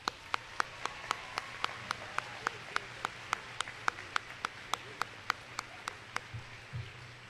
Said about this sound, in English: Students, please join me in applause to these people who have contributed to your success.